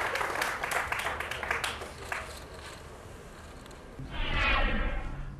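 A small cheering section at a poker tournament in the Chumash Casino claps and cheers, a scattered burst that fades, then swells again briefly near the end, heard at moderate distance.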